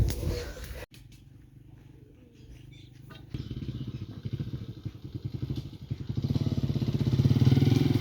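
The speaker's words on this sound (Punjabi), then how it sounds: "ਸਕੂਟਰ ਆ ਗਿਆ ਹੁਣ" A scooter engine approaches, a low throbbing putter that is faint at first, then grows louder and nearer, ending in a steady close idle.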